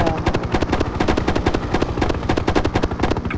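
Rapid, evenly spaced bursts of enemy ground fire in the 1998 helicopter combat game Hind, a loud continuous machine-gun rattle over a low, throbbing rotor drone.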